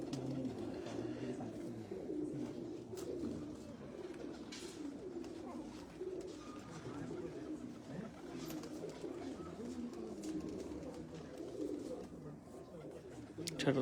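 Several pigeons coo in low, rolling bursts throughout, with people talking nearby and faint background bustle.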